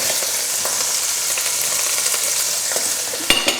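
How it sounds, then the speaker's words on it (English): Garlic sizzles loudly in a pan alongside sausages and chorizo, a dense steady frying hiss with light stirring scrapes and a couple of sharp knocks at the end; close and without voices. "I'm going to pop the garlic in there."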